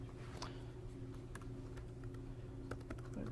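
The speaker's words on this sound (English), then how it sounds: "we can just type Python" A computer keyboard clicks faintly as a command is typed into a terminal, a few sparse keystrokes over a low steady hum, quiet and close with no talking.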